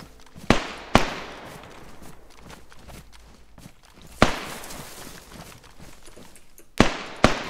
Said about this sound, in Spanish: Escucho disparos, pero no lo veo.